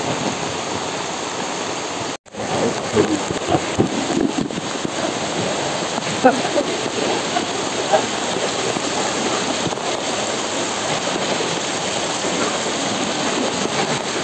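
Heavy rain pours during Typhoon Carina amid flooding, a dense, steady roar of water that fills the whole clip, broken only by one brief dropout near the start.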